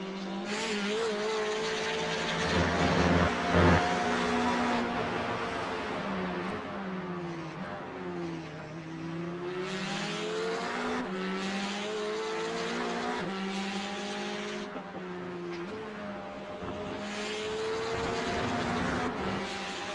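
GT4 race cars, McLarens and Porsches, scream past on track with engines rising and falling through gear changes, overlapping in a loud, continuous roar from a pack of several cars.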